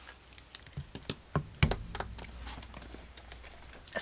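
Calculator buttons pressed one at a time: a sparse sequence of about a dozen light, close taps and clicks with short irregular gaps, quiet overall and without speech.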